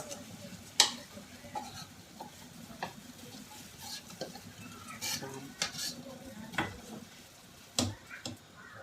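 A utensil scrapes and clinks against a pot as sour curry paste, shrimp paste and young moringa are stirred into boiling water, with quiet bubbling underneath and scattered sharp taps, fairly faint and close.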